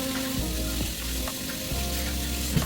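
A butter and lemon sauce with a whole piece of lemon in it simmers in a pot over low heat, giving a steady close sizzle and bubbling with a faint hum underneath.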